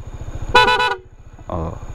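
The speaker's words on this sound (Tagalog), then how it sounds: "On natin to, yung PIA horn." A PIAA horn fitted to a Honda ADV160 motorcycle sounds in two short loud honks, the first bright and stuttering, the second lower and briefer, over an idling engine.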